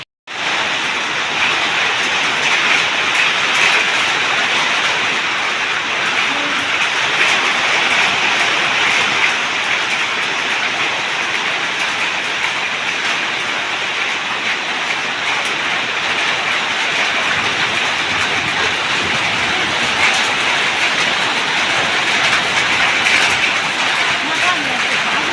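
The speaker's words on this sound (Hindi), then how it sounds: "अब बहुत बारिश हो रही है" Heavy rain pours steadily on a rural farm road, a dense, loud, unbroken hiss of falling water that lasts throughout.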